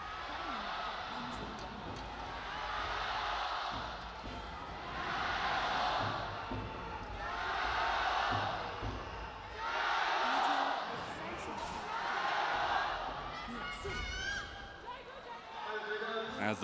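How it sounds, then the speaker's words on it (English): An esports arena crowd at a League of Legends match, the LPL regional qualifier for Worlds 2023, rises and falls in rhythmic swells of cheering, with commentators talking over it. "As the crowd quiets down a little bit"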